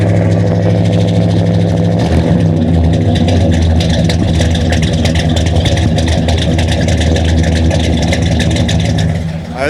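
A 1969 Oldsmobile Hurst Olds V8 at a concours show revs loudly and close, a steady heavy rumble with throttle swells that holds for nearly ten seconds before dipping at the end.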